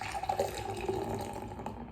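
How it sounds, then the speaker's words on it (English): Miller Lite beer pours into a glass, a continuous liquid gurgle and splash with fizzing, close and moderately loud. "Let's go ahead and pour the Miller in."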